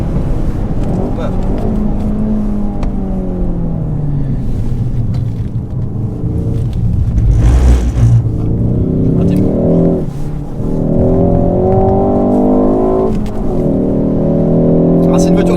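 A 2019 Ford Focus ST with a 2.3-litre turbo four-cylinder engine pulls hard on a test drive, loud rising engine tones climbing through gears with a brief dip and shift near the middle, then revving up again strongly.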